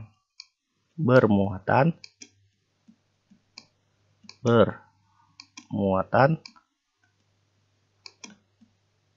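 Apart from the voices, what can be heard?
computer mouse clicking while drawing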